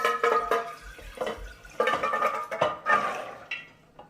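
Soaking water is drained from almonds into a sink, with splashy pours, drips and clinks of a container in irregular bursts, close and moderately quiet, without talk.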